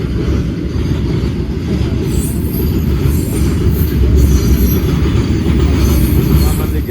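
A train rolls through a railway junction near a level crossing, a loud continuous rumble of wheels on track with intermittent high squeals, close and sustained throughout.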